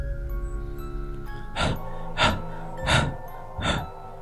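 A man pants heavily, drenched in sweat, with four loud, evenly spaced gasping breaths over a sustained low musical drone.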